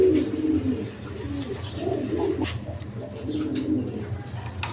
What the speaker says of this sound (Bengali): এখানে এক পেয়ার কোকা কবুতর আছে